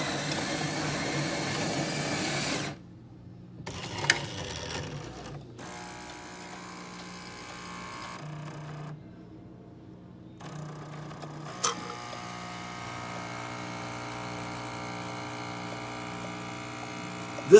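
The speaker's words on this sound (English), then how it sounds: "This machine is a Jura machine. It's designed to grind the coffee there and then press it at hot temperatures into your cup." A Jura coffee machine grinds beans and then brews, giving a loud grinding burst followed by a stretch of pumping and mechanical whirring with short clicks and pauses, heard alone without talk.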